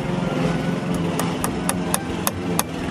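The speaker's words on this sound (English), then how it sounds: "I was nailing the braces inside the hole" A hammer drives nails into wooden braces inside a hole around concrete forms during shop construction. It gives a steady series of sharp knocks, roughly four per second, over a constant engine-like drone.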